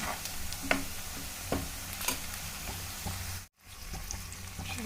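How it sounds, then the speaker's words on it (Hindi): Chutney being added to a hot pan for aloo paratha preparation, frying with a steady low sizzle and scattered crackles and stirring clicks, brief dip near the end, no talking. "और इधर चटनी छोड़ रही हूँ।"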